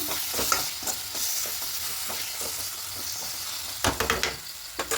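Onion, sesame and poppy seed paste fries in a pan with a dense, continuous close sizzle, stirred with scraping strokes that turn into a burst of quick clacks near the end; nobody speaks.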